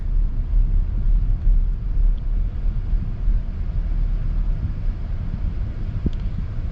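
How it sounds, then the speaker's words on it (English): Tire noise inside a moving 2026 GMC Acadia Elevation with a V6, a steady low road rumble filling the cabin, muted by insulation, with no talk over it. "You do hear a bit of tire noise though"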